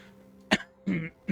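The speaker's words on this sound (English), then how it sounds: "I'm sorry, I didn't mean to cough into the mic." A few short, sharp coughs, close and fairly loud, with brief pauses between them and no talking.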